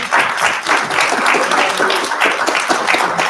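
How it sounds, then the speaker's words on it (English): Audience at a late-night rave event giving a loud round of applause, continuous dense clapping that pulses slightly in intensity from start to finish. "So give yourself a huge round of applause for saying yes."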